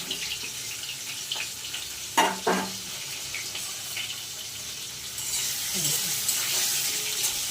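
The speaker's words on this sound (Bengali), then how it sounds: "সর্ষে তেলে এইভাবে দিয়ে ছেড়ে দেবেন, দিয়ে একটু ভাজা ভাজা করে নেবেন।" Food frying in mustard oil gives a steady, hissing sizzle. A couple of sharp clinks from a utensil cut through near the middle, and the sizzle swells louder toward the end.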